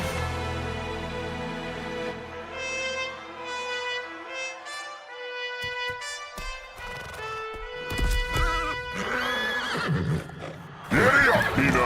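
A horse named Peanut gives loud, drawn-out whinnies amid music and other noise, with a voice heard briefly and sharp bursts near the end.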